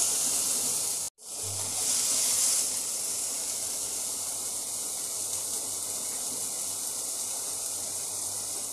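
Chicken tikka pieces in green hariyali marinade fry in a pan, giving a steady, dense sizzle and hiss that runs almost without a break, with one brief dropout early on.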